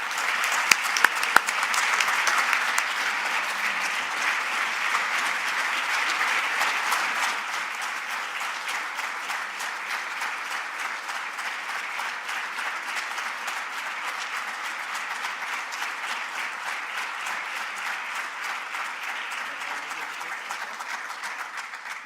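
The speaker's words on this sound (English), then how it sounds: "Please give me a big round of applause" A large crowd applauds at the University of Nebraska to welcome its new athletic director. Sustained clapping with a few sharp claps starts loud, then settles into an even, slightly softer patter that carries on for over twenty seconds.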